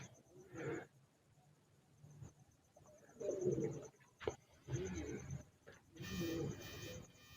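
A star-breed pigeon coos in a few low, throaty bursts separated by pauses, fairly faint against a quiet background with no talking.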